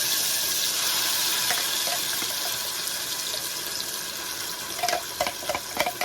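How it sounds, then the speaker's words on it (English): Peppered gizzard sauce fries in hot oil in a pan, a steady close sizzling hiss with a few louder pops and crackles toward the end, and no talking. "fry this for approximately 5 minutes, and then we incorporate in the gizzard."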